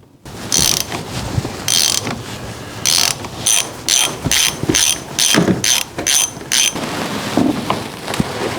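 A ratchet on a long extension clicks in repeated bursts of rapid pawl ticks as it loosens the oil filter housing on a Chevrolet Colorado 3.6L V6, close and loud with brief pauses between strokes.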